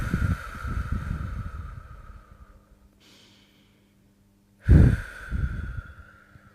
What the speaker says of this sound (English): With 3 deep breaths.